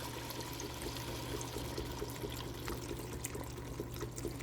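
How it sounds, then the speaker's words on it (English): Broth is poured into a pot of Italian sausage soup with tomatoes, making a steady, faint liquid stream that runs without a break and is heard alone. "Get that broth in there."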